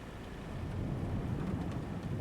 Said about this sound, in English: It's good thunder noise, too.